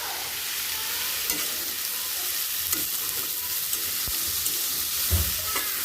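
Vegetables sizzle and fry in a pan with turmeric and chili powder, a steady close hiss with a few soft scrapes of stirring, no talk.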